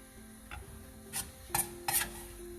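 Dal with drumstick leaves stirred in a pot, Andhra style, soft scraping strokes and a few brighter scrapes against the pot over a low steady background hum, close and quiet, with no talking.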